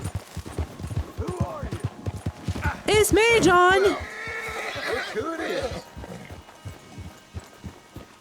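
Horse hooves clop in a steady rhythmic beat throughout as a mare is ridden in Red Dead Redemption 2, with a loud whinny cutting in midway and someone talking over the hoofbeats.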